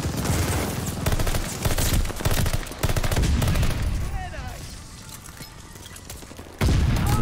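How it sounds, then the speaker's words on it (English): Rapid automatic gunfire from Call of Duty Vanguard, dense bursts of loud shots with booming hits, pausing briefly before another burst starts at the end. "I'm just shooting."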